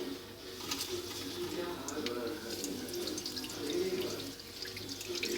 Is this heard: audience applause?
no